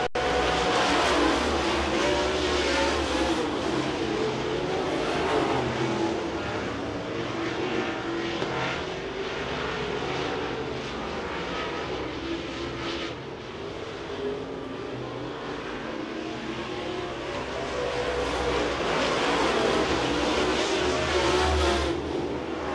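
Race cars racing at the Speedzone track, a continuous roar of engines from a pack of cars circling with swelling and fading passes, heard from a distance under crowd-level noise.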